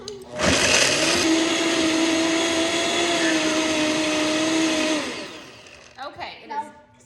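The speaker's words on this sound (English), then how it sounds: "we're gonna put in a high-speed blender. Just blend it till smooth." A high-speed blender whirs loudly and steadily for about five seconds while blending cashew cheese until smooth, then winds down, followed by faint clatter.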